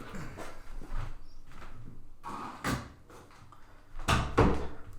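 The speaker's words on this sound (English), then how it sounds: "I'm going to shut my door here." A door being shut indoors: a few muffled knocks and a firmer thud close by, with quiet room sounds between them and no talk.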